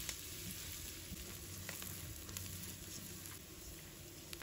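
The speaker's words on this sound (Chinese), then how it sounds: "然后把姜蒜末放入锅中，给它翻炒一下，把它们炒出蒜香味。" Minced ginger and garlic stir-fry in a wok of rendered pork fat with a quiet, steady sizzle and scattered light crackles and pops, close but low in level.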